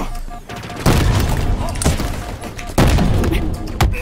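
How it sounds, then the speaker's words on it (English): Explosions in Halo Infinite multiplayer, Fracture: Tenrai Fiesta mode: three loud, close booms at roughly one-second intervals, each with a rumbling tail, over constant gunfire and game noise. "So it's explosions!"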